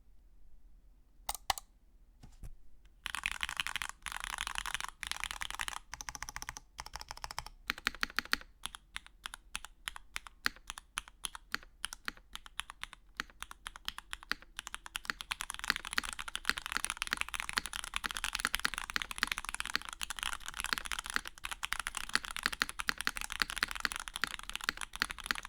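Typing on a Float65 custom mechanical keyboard with a bent steel case, starting with a few isolated keystrokes and then a close, steady stream of crisp clacks that builds into fast continuous typing.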